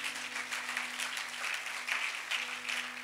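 Church congregation applauding in praise during a French-language sermon, a steady wash of many hands clapping at moderate distance under a constant low hum, continuous through the clip without talk.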